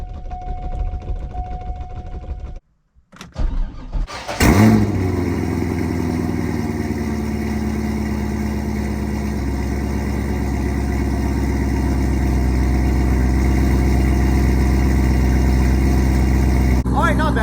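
A Chevrolet Corvette C5 V8 in neutral cranks and fires up after a quiet stretch with a voice and door sounds, then settles into a loud, steady, close rumbling idle.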